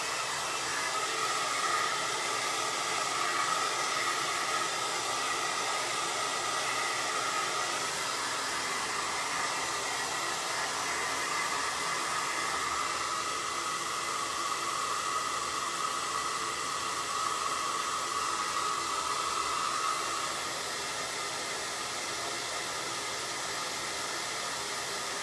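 A dryer blowing air over a cow-print fall craft project makes a steady, loud rushing hiss that runs unbroken for about twenty seconds, then dips slightly in level.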